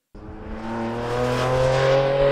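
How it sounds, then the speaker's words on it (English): Porsche 718 Cayman GT4 RS 4-liter flat-six engine, with special intakes feeding induction sound into the cabin, revs up and builds steadily from a sudden start, a loud rising harmonic roar with no talking. "that 4-liter flat six, with special intakes that let a lot more of the induction sound into the cabin"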